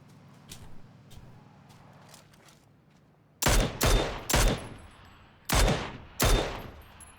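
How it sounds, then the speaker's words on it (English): Gunshots in PlayerUnknown's Battlegrounds: faint distant pops at first, then five loud, sharp shots ring out in two clusters, each with a brief echoing tail. "I hear the gunshots."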